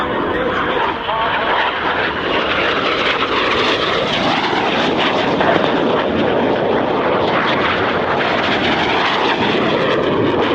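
RAF Red Arrows synchro pair jets crossing from opposite sides at an air show, a continuous loud roaring jet engine sound that swells as they pass close, with a commentator talking over it.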